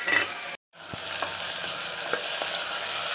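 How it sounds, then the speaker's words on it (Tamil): Onions and tomatoes sautéing in a pan for chicken biryani: a continuous bright sizzle with a brief cut, then spoon-stirring scrapes and soft knocks recurring over the frying hiss. "நல்லா வதக்கிட்டுருக்கோம்."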